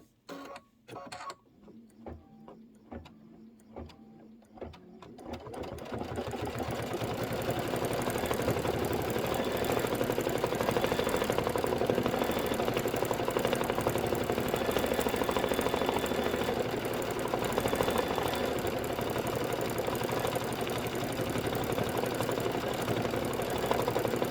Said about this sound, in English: This is going to be 5 minutes of stitching.